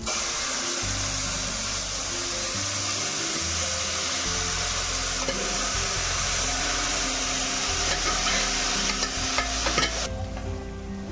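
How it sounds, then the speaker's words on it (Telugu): Boiled vegetables for a green bean curry are tipped into hot oil with cumin and stirred, producing a loud, continuous hiss and sizzle with occasional utensil scrapes throughout, with no speech. "ఇప్పుడు మన ఉడకపెట్టిన వెజిటేబుల్స్ని వేసేసుకుందాం."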